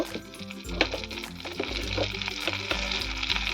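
Dried red chillies crackle and sizzle in hot butter in a pan, a soft continuous frying hiss with scattered pops, heard close under a low background hum.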